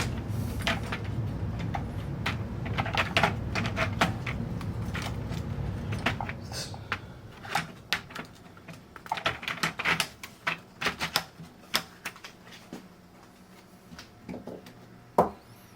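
Screws being driven into the front panel of an HP 8902A measuring receiver, a stretch of dense clicking and rattling followed by sparser, sharper metallic ticks and taps, close up with no talking.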